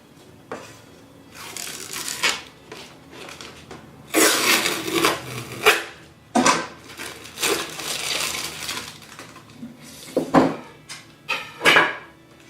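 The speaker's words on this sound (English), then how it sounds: "Once you're done with cutting the aluminum down to size" Aluminum panel sheet with a plastic surface coating being cut down to size, producing irregular bursts of scraping, crunching cuts separated by short pauses and small clicks, close and fairly loud.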